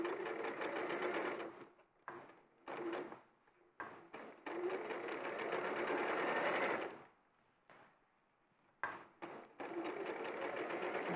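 Sewing machine stitching a curved princess-line seam in fabric held with clips, running in loud close bursts of steady whirring with short pauses between runs.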